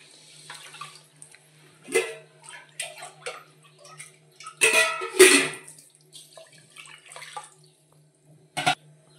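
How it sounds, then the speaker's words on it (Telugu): Water poured into washed rice for tamarind pulihora prasadam, arriving in a few short splashing bursts with a longer pour in the middle, fairly close, no voices. "మనం పావు రైస్ తీసుకున్నాం కాబట్టి 2 పావులు వాటర్ పోసుకోవాలి."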